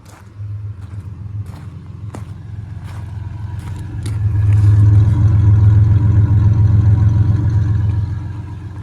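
A 1992 Ford Ranger XLT pickup engine idles steadily up close, a low continuous hum that swells louder midway as the idle rises, with a few light clicks from the cab.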